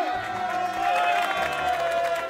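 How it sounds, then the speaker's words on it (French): Short burst of crowd applause and cheering for Michel and Jean-Pierre after a shrub pruning job, with a high whistle-like tone and voices mixed in. "Applaudissements pour Michel et Jean-Pierre."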